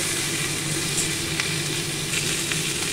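Hilsa fish pieces, broken in two, frying in a wok, a close, even sizzle with faint crackles and no voices.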